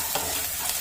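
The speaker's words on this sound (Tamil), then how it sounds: "வெங்காயம் நல்லா செவக்க வதங்கிடுச்சு" Sliced onions sautéing in an oil pan with salt for a red poha upma, a soft continuous sizzle with brief scraping stir strokes, close and alone.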